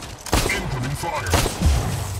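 Incoming gunfire in the Mech Arena video game: sharp bursts of shots with a heavy boom near the end, loud and close, with a voice speaking underneath.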